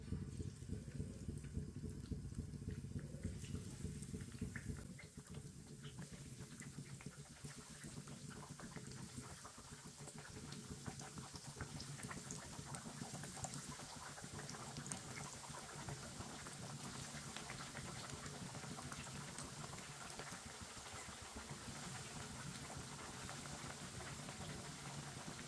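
Aloo tikki pieces sizzling in hot oil in a pan, a steady dense crackle and hiss that thickens after the first few seconds and continues unbroken throughout, close and fairly loud with no talking.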